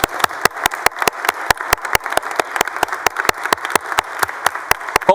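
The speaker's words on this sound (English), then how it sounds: "let's give them a big round of applause for their amazing performance in athletics this year." Audience applause fills the Texas Senate chamber for visiting student athletes: a steady, dense wash of clapping, with sharp, regular claps close by standing out above it.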